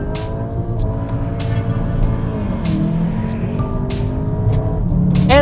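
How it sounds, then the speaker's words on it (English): A 2016 MOMO Edition Volkswagen Jetta GLI does a burnout on sticky Pirelli P Zero tires, its engine holding a loud, steady high-rev drone with rising and falling pitch and tire noise layered over it, close by and continuous. "because of those sticky Pirelli P0s, it wasn't just a straight up burnout"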